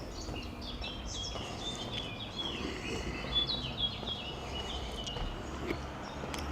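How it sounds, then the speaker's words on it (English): Small birds chirp and trill outdoors in an industrial area of Adeje, repeated bright calls over a steady background hum, moderately close and continuous throughout. "Nice birds."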